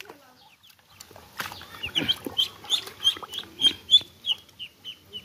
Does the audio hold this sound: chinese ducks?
yes